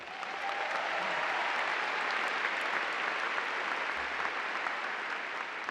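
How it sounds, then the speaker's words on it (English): Steady applause from a commencement ceremony audience fills the hall, dense and sustained clapping from a large crowd with no talk over it. "Would you please give them a round of applause?"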